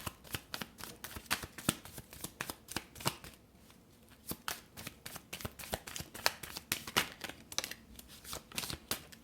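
Tarot cards are shuffled with steady riffling and slapping for several seconds, a dense run of crisp papery snaps that pauses briefly and then resumes, close and moderately quiet with no talking.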